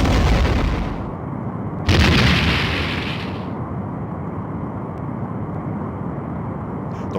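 Starship weapons fire at a Romulan warbird in Star Trek: The Next Generation: A Final Unity, with two heavy blasts a couple of seconds apart, each followed by a long rumbling decay.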